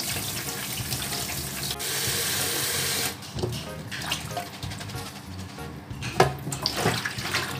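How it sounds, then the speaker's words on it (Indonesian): Running tap water pours steadily into a sink as vegetables are rinsed, a loud continuous splash that shifts to softer splashing and handling noises partway through. "kita langsung cuci dengan air mengalir seperti ini"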